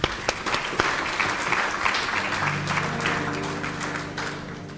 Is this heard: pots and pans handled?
no